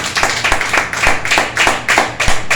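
A church congregation bursts into applause during a Spanish-language sermon, many hands clapping loudly and unevenly, with bursts of claps swelling and easing for the whole stretch.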